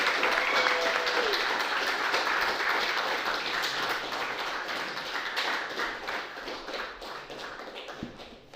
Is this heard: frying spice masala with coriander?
no